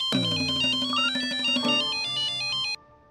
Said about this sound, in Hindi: लैब से फोन आया है।